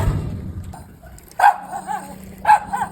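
A dog lets out two sharp barks about a second apart, close by, followed by softer whimpering yips.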